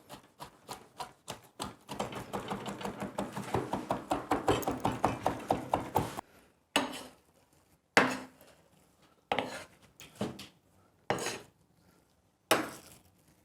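A knife chops rapidly and rhythmically on a cutting board, then slows to a handful of single, sharp chops separated by pauses.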